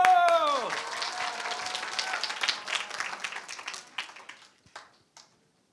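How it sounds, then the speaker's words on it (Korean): Audience applause at a winter camp youth concert in a hall, a burst of clapping and crowd noise that starts over a voice and gradually thins out into scattered claps and fades near the end. "박수 박수!"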